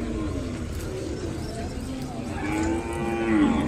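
Ongole calves and cattle at the Kodad livestock market give long, low moos. Pigeons coo and people talk faintly in the background of the busy market.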